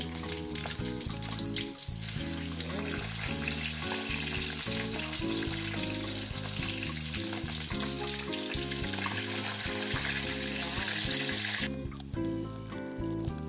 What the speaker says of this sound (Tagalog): Baliktarin na natin ang ating pinirito.